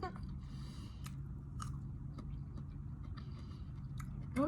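Loud close-up chewing and crunching of Malaysian sweets, with steady mouth sounds and a few sharp crunchy bites.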